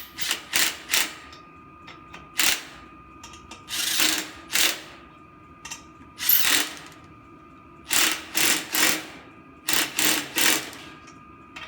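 Lug nuts being run onto a scrap car wheel: about a dozen short bursts of fast mechanical ratcheting, loud and close, in clusters separated by brief pauses.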